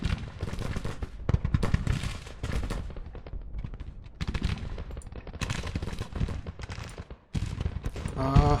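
Rifle and cannon fire from a Grand Tactician Civil War battle: dense, crackling musket volleys mixed with heavy booming cannon shots, continuous and loud for the whole stretch with brief lulls.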